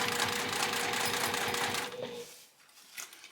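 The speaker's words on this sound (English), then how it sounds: "You're just sewing through the lining." A sewing machine stitches through the lining of a zip wallet, a fast steady mechanical whir close up that runs for about two seconds, then stops, leaving quiet handling noise.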